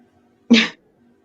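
One short, sharp dog sneeze bursts out of near silence, close and fairly loud, over in a fraction of a second.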